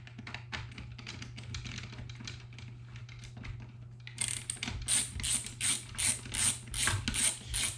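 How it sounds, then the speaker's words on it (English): A Southwire ratchet screwdriver drives screws into an electrical receptacle in a box, giving a steady run of small ratcheting clicks that turns into louder, rhythmic pulses of turning near the end, close and with no talk. "We're going to screw those in now."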